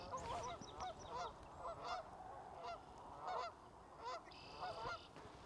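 Several geese honking in a wildlife area at morning, repeated short honks in an irregular rhythm, fairly distant and faint against quiet outdoor background.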